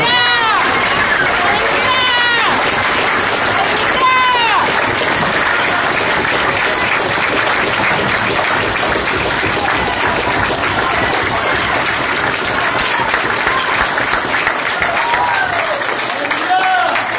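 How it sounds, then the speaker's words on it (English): Sustained, loud applause from a large crowd at an Israelite summit in Atlanta, with whoops and cheers rising through the dense clapping for the whole stretch. "give a round of applause for Prince Ron Big Yehuda"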